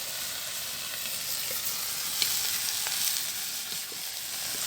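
Onion and garlic fry in oil for banana blossom adobo over an outdoor backyard gas burner, producing a dense, continuous sizzle with faint stirring clicks throughout and no talking.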